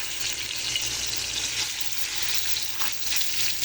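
Pieces of fish rubbed with salt and turmeric fry in hot oil in a wok, making a constant bubbling sizzle up close with no voices.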